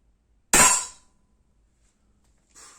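A single sharp shot from a Langley Pro Sniper 4.5 mm air pistol fired at a target, a crisp snap with a short metallic ring, followed after a pause by a faint clink.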